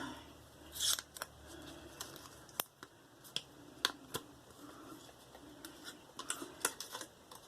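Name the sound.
handling paper wrapper of a Feather razor blade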